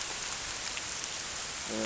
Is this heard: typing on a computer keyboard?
no